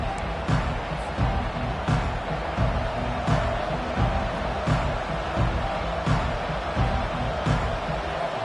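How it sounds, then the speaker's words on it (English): Steady roar of a home crowd at a college football game against Clemson, a dense continuous murmur with periodic louder swells and thumps, heard alone without talk. "this home crowd is fired up and ready to make a difference today"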